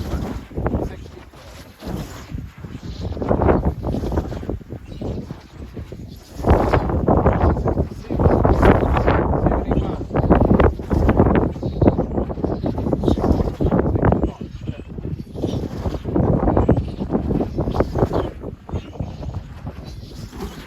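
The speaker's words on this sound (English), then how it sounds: "It's very blustery right here on the top distance." Strong, gusty wind buffets the microphone on an exposed hilltop at an outdoor festival, a loud continuous roar that surges and eases, with people talking over it.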